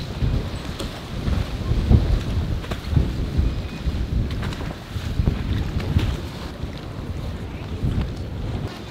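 Strong, gusty wind buffets a gondola on the water in Venice and roars steadily into the microphone. Thumps and rumbles run continuously throughout, with no talking.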